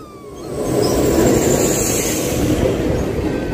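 A train rumbles steadily at a railway station, close and loud, with a broad low roar and faint rail clatter sustained throughout.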